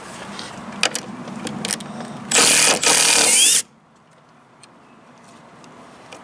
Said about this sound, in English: I will take it back out in the reverse rotation.